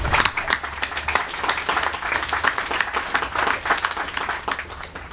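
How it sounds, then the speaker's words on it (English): An outdoor crowd at a Sydney park reopening ceremony applauds steadily, dense clapping holding throughout at moderate loudness with no voices over it. "Please give them a huge clap."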